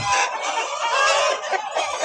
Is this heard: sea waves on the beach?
no